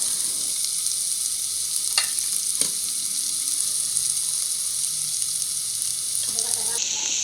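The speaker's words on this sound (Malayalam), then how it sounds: "സവാള നന്നായിട്ട് വാടുന്ന വരെ നമുക്ക് ഒന്ന് ഇളക്കി കൊടുക്കാം." Sliced onion sizzles steadily as it fries in a pan for prawn mandi, with a few soft stirring scrapes and clicks of the spoon against the pan; close and continuous, with no talking.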